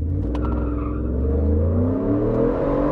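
A single-cab Ford F-150 XLT pickup with a 5.0 engine, 10-speed transmission and a Saleen supercharger making 700 horsepower accelerates hard, its loud, close engine drone climbing steadily in pitch, with a faint tire squeal, and no one speaking.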